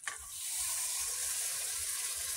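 Water pours steadily into a cooking pot for a couple of seconds, a continuous bright splashing rush after a brief initial clatter, close and fairly loud with no talk.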